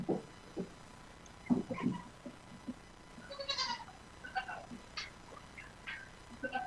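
Goats bleating near and far in a farm setting, several short calls scattered across the moments with quiet gaps, faint background murmur between them.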